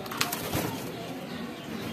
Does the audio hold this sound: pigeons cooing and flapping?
yes